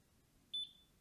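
A Simrad NSX chartplotter and fishfinder display gives a single short, high electronic beep at power-on, faint and alone in a quiet room.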